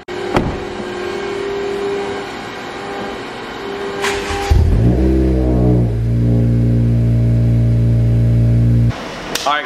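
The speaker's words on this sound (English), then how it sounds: "start his car for the first time" A car starts up for the first time after a big turbo kit install in a shop, cranking and catching into a loud, steady idle that runs on for several seconds before cutting off.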